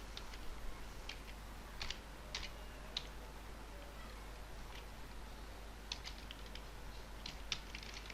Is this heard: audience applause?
no